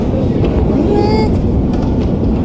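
A loud, steady rumble of a Tbilisi metro train in motion fills the space, with a brief metallic squeal rising above the roar.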